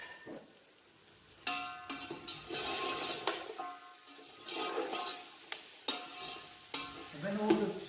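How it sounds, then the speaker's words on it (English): Spices, whole slit chillies and mutton being stirred in a pot for mutton pulao, with uneven bursts of scraping and sizzling that rise and fall as the spoon moves, close and fairly quiet with no talk. "And give that a good mix"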